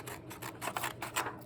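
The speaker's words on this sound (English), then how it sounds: "Take my scissors." Scissors snipping through a sheet of paper in a short run of close, crisp cuts with brief pauses between strokes, heard alone without talk.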